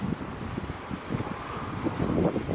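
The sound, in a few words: wind blowing into the microphone outdoors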